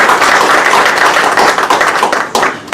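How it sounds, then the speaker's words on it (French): Loud, dense applause from an audience at a Mauritius sponsorship ceremony for the Indian Ocean Island Games as honoured athletes stand. Many hands clap together in a close, continuous burst that stays strong throughout. "Ils peuvent se lever, hein, on peut les applaudir."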